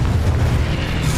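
Confringo spell explosion in Hogwarts Legacy, a loud heavy boom with a deep rumbling body that holds steady across the moment.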